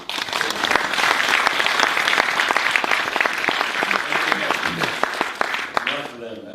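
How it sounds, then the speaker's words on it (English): A big audience claps steadily for the organisers of a live talk event, a dense, sustained round of applause that continues for several seconds, then thins out abruptly near the end. "maybe just give them a big round of applause"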